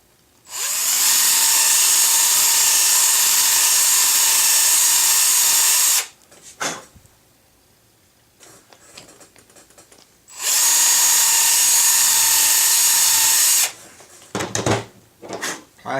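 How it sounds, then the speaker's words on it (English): A power drill bores out a hole in a plastic wheel of a K37 Kadet LT-40 model aircraft, whining loudly in two long steady runs separated by quiet pauses, clicks and handling knocks. "take my drill, and only go in as far as I need to, and try to wallow that out"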